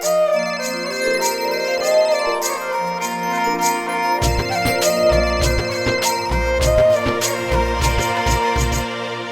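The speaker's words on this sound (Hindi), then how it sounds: "अरे छोरी फोन उठा" A phone ringing indoors with a loud repeating electronic melodic ringtone, its tones pulsing in a steady rhythm and getting denser partway through, heard alone without talk.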